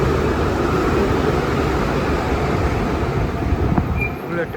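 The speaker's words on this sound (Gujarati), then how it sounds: "બુલેટ ટ્રેન ગઈ ભાઈ." A train rushes past outdoors in a Swiss summer setting, a loud, continuous rumbling roar close by that holds steady and begins to ease near the end, with faint voices in the background.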